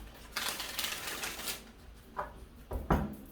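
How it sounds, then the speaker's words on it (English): A deck of tarot cards is shuffled in quick riffling bursts, followed by a few sharp taps and snaps, quiet and close by. "I'm going to give this 3 shuffles."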